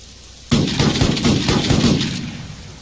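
Gunfire in the video game DayZ Epoch at an airfield hangar: a sudden rapid volley of loud, close shots lasting about two seconds, then fading out.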